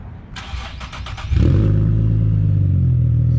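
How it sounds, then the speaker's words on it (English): An Infiniti G37 engine starts with its exhaust valve fully open: a quick starter whir, then a sudden loud catch that settles into a steady, deep, close idle rumble, with no talking. "I'm gonna start the car again"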